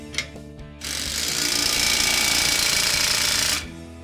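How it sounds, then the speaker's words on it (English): A loud, continuous power-tool rattle for about three seconds as an axle nut on a trailer axle is torqued down to 200 foot-pounds, starting abruptly after a faint click and stopping sharply. "we're gonna torque this axle nut down to 200 foot-pounds"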